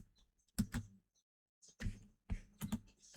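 Keyboard typing during a playtest of the game End of End, heard as a few separate bursts of close key taps with short silences between them.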